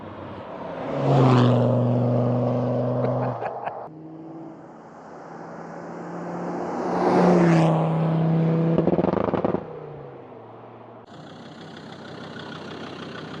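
A Land Rover Discovery 2 TD5 diesel engine fitted with an LOF clutch runs on a dyno, revving up loudly twice and settling back between pulls, with a brief higher-pitched run at the end and no talking.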